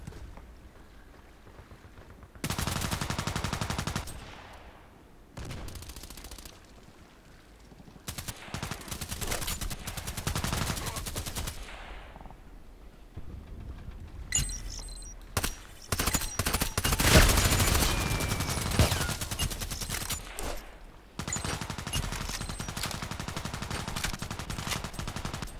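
Gunshots in a sniper shooting game: sharp, loud reports in scattered bursts over a steady ambient background, with a dense cluster of firing midway and quieter gaps between shots.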